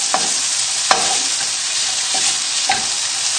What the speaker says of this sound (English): it's starting to sizzle now, so I'm going to throw in the bacon